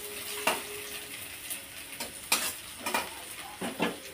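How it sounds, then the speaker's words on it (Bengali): Chopped onion frying in hot oil in a pan for a chana dal dish, a steady crackling sizzle punctuated by several sharp spoon scrapes and clinks as it is stirred. "পেঁয়াজটা একটু তেলে নেবে"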